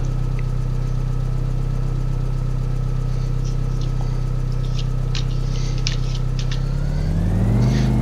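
A 1971 Mercedes engine from Farming Simulator 15 idles in a steady, loud low drone, with light clicks and taps on top and a slight rise in revs near the end.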